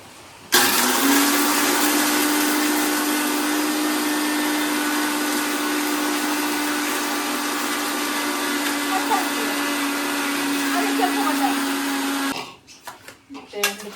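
A mixer grinder grinds cake batter ingredients for an oven-free soft cake, a loud steady whine that runs for about twelve seconds and then cuts off, leaving brief clatter.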